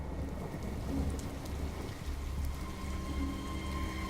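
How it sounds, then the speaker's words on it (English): Steady rain pours in a scene from the video game Detroit: Become Human, a dense, even hiss that stays constant throughout with a low rumbling undertone and no voices. "Yeah, it's raining."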